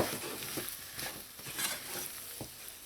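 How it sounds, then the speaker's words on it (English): Peas and cumin (geera) powder being stirred into a samosa filling in a pan, giving a low, steady scraping and faint sizzle with soft spoon strokes repeating through the clip. "I'm going to add my peas and my geera powder. Mix everything to combine."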